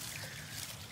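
A garden water fountain in a tropical food forest trickles steadily, a soft, continuous splashing wash with no voices.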